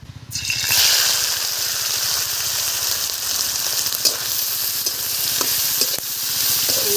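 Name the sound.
prawns frying in oil in a wok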